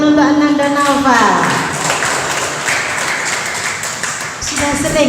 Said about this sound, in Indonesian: Tepuk tangan untuk Ananda Naufal.